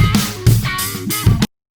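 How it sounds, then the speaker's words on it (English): A short burst of loud rock music with punchy drums and driving guitar, cutting off abruptly after about a second and a half. "if you don't want to hear that loud rock and roll song"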